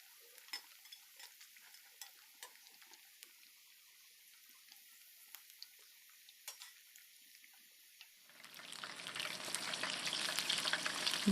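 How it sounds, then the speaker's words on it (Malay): Faint scattered ticks give way to a sudden loud, dense crackling sizzle as chicken drops into hot oil, continuing strongly to the end. "kena hati-hatilah masa goreng ayam ni sebab minyak betul-betul dah panas"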